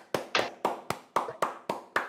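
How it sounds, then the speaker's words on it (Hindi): A single person claps eight times at a steady, moderate pace for guests at a commerce education event, each clap sharp, close and clearly separated. "तो एक बार जल्दी से जोरदार धमाकेदार तालियां हो जाए दिशा और शीतल मैम के लिए"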